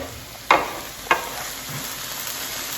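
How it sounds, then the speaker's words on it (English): Ground beef, onions and garlic frying in a pan, a steady sizzle broken by two sharp scrapes of a stirring utensil early on, close and alone without speech. "just keep stirring and the ground beef and letting those onions and garlic cook"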